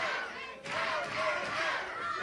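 A wrestling crowd at a 1982 Mid-Atlantic Wrestling arena match cheers and roars steadily, with a brief dip before swelling again, under a commentator's voice.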